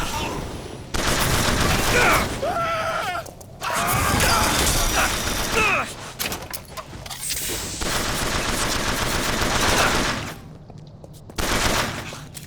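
Enemy gunfire in BioShock Infinite: Burial at Sea, loud rattling automatic bursts and mechanical clatter in dense stretches, broken by short pauses, with game sounds layered over it.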